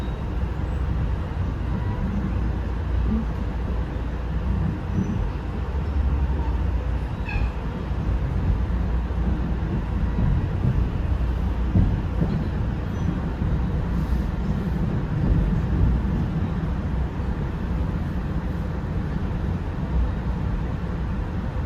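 An NJ Transit express train rumbles into the tunnel approaching Penn Station, a steady low roar of wheels and carriage noise heard from onboard, continuous and even with no voices.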